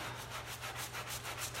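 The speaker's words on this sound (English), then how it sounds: "I'm going to do some scrubbing." Steady rhythmic scrubbing of tar-stained clothing worked with Dawn dish soap, a close, continuous rubbing with even strokes repeating several times per second, alone without talk.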